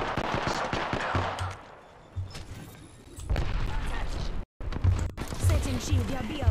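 Gunfire from the game Apex Legends crackles in bursts of close shots mixed with booming impacts and game voice lines, broken by a brief dropout.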